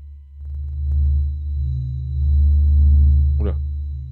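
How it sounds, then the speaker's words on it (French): A NASA space recording of the sun: a low, steady droning hum with a faint high whine, swelling slowly in loudness, with a brief upward chirp near the end. "Le bruit du soleil."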